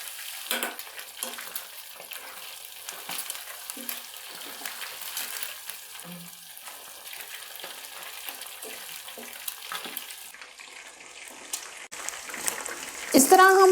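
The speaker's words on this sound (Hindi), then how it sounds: "इस तरह हम हल्के हाथों से पलट कर हर तरफ से गोल्डन कलर आने तक फ्राई कर लेंगे।" Chicken feet fry slowly in a pan on low heat and are gently turned, giving a soft continuous sizzle with scattered scraping clicks and a louder clatter near the end.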